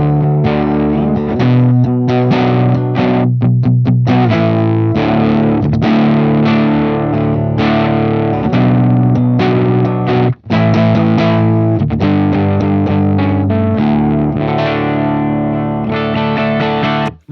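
Clean electric guitar running through a Bardic Audio HM Demon pedal with the toggle in the post position, bypassing its EQ; a continuous busy riff of chords and single notes, loud and close, with one brief gap.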